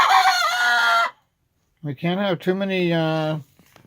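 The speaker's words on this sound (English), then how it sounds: "how did you all start crowing just at the same time?" Two roosters crow one after another, loud and close, each a long strained call separated by a short pause.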